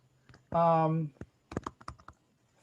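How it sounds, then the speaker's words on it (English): Someone types on a computer keyboard, giving a short burst of sharp clicking keystrokes after a brief sustained voice-like tone. "You can type in here"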